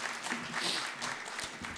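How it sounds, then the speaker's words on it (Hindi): A kavi sammelan audience breaks into applause at a poetry recital, a brief burst of many hands clapping that holds steady, fairly close and full, ending with a louder clap or two. "तालियां थोड़ी और ज़्यादा भी होनी चाहिए"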